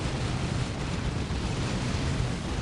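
A large explosion in the real-time strategy game Dawn of War, Orks against Space Marines, rendered as a loud, sustained broadband roar and rumble that fills the whole stretch without a break.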